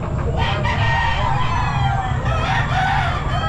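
A gold stag rooster crows in long drawn-out calls amid other fowl clucking at a busy pet market, loud and close over steady crowd noise.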